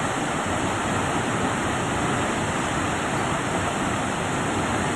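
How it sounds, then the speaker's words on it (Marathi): Heavy monsoon waterfall at Shivthar Ghal near Mahad in Maharashtra, a dense, steady roar of rushing water that fills the whole clip without let-up and with no voices. "धबधबा प्रचंड जोरदार असा प्रवाहित झालेला आहे।"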